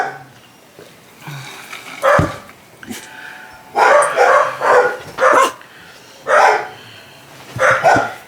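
Neighbouring dogs bark in repeated loud bursts next door, with whimpers and yips between the barks.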